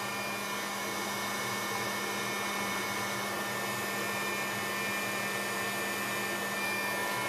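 A hair dryer blows steadily at close range, drying a mixed media MDF panel, its constant whirring hum running unbroken with no talk.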